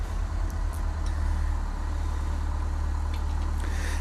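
A light aircraft engine in Microsoft Flight Simulator X runs with a loud, steady low rumble and a few brief clicks and chirps over it, with no voices.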